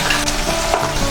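Onion paste sizzles in an oiled pan for a Bengali chicken curry, a close, loud, continuous crackle and hiss with slight stirring pulses and no talking.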